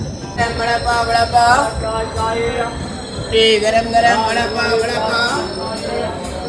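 A Janshatabdi train rumbles into a station on the Mumbai to Sawantwadi route, its wheels squealing on the rails, with crowd noise and some voices in the background.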